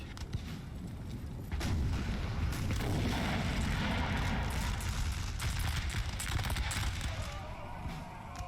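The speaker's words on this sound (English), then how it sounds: "The amount of guns I'm seeing firing at such close range." Massed musket and rifle volleys in a Napoleon: Total War battle, a dense rolling crackle of gunfire with heavier booms swelling midway, loud and continuous.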